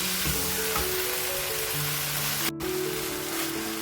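Minced meat keema frying in a pan, giving a continuous close sizzle with a few faint scraping stirs and a brief dropout partway through.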